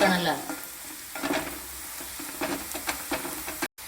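Shrinking slices of bitter gourd crackle in coconut oil as they are turned with a spatula, a close sizzle marked by several scraping stirs before a brief dropout near the end.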